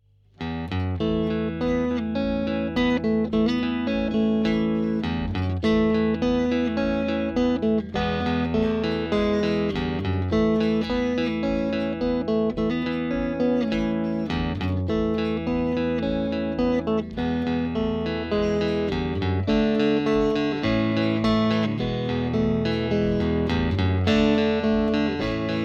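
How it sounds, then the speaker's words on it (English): Clean electric guitar from the neck pickup of a Fender Vintera 50s Telecaster Modified, playing a steady, full-bodied stream of chords and melodic lines at moderate loudness, alone for about twenty-five seconds. "And now some clean tones on the neck position."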